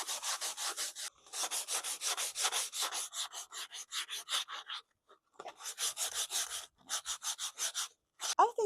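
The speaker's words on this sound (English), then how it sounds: "I'll start with P100 and I'll take just a regular kitchen sponge and wrap the sandpaper around it" Hand sanding varnished outdoor wood furniture with P100 sandpaper wrapped around a kitchen sponge: steady rhythmic back-and-forth scratchy strokes, close and clear, broken by a few short pauses.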